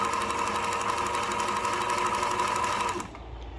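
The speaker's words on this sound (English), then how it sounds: "really cheap sewing machine, all I had to really do was fix the switch." A cheap sewing machine with a Chinese foot pedal runs steadily at a slow, even pace, its rapid mechanical chatter continuous and close before dropping off abruptly near the end.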